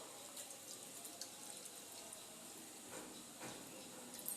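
Water pouring into a simmering crab and potato curry in a home kitchen. A faint, steady trickling hiss runs throughout, with a few soft splashy accents.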